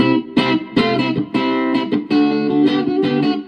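Loud, distorted electric guitar chords played through a Roland Cube 10GX amplifier, strummed in a choppy rhythm with short gaps between bursts.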